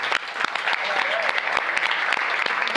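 A theatre audience applauds after a stage production as the crew is thanked, with sustained, dense clapping throughout and sharp individual claps standing out, while someone talks over it.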